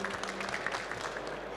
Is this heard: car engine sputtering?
no